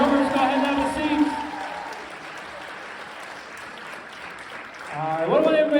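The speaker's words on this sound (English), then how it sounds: "how about a big round of applause for our rock band?" A middle school audience at a comedy hypnosis show applauds a rock band, a broad wash of clapping and crowd noise, with someone talking loudly over it at the start and end.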